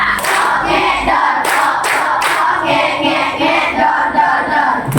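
Sixth-grade pupils in an elementary-school classroom in Pekanbaru clap a short patterned burst of three quick, sharp claps amid loud, noisy group chanting and shouting.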